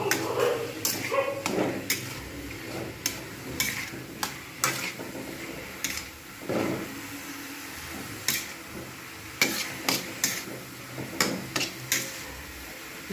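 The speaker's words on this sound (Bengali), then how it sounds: "কিছুক্ষণ ধরে এটাকে নেড়ে নিলেই হয়ে যাবে নারকেলের পুর।" Grated coconut filling stirred in a pan for Bengali bhapa puli pitha, giving irregular scraping and knocking strokes of the spatula against the pan, near and moderately loud, with faint background noise between strokes.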